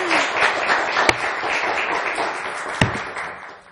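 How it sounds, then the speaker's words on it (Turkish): Studio audience on a Turkish television word game show applauding, a dense, steady wash of many clapping hands with a couple of sharper claps standing out, fading slightly toward the end. "Ben bir kuvvetli alkış alabilir miyim şu uğraşıya?"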